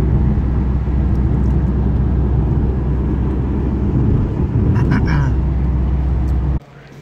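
A modified Subaru Impreza WRX rolls into a garage, its engine a steady low rumble that stays loud and close before cutting off abruptly near the end.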